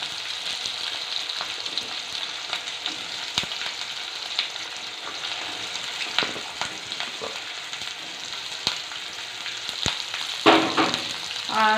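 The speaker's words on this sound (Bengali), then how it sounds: "আর এখানে যে কুচানো পেঁয়াজগুলো ছিল সেটাও আমি তেলের মধ্যে দিয়ে দিচ্ছি" Chopped onions and green chillies frying in hot oil in a wok, a loud continuous sizzle close up with scattered stirring clicks and scrapes, no voices.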